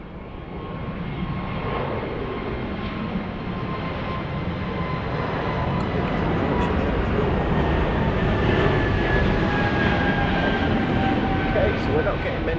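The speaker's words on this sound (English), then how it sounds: "I can always tell when this aircraft's departing." A jet airliner departs Lisbon Airport, a broad, steady roar of engines that swells gradually and holds loud and fairly close for the whole stretch.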